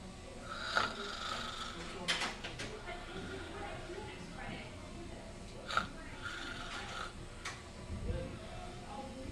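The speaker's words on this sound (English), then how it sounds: "that's my snoring, sleeping" A sleeping person snores, soft and fairly distant, with irregular breathy snorts and rattles over a quiet room background; faint voices can be heard.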